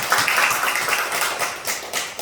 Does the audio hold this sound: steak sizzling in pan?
no